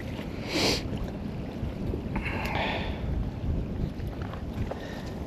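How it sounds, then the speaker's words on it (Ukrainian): Gusty wind buffets the microphone in low rumbling bursts during winter perch fishing, with faint splashes of water nearby. "вітер сьогодні ще ще більше, ніж минулого разу"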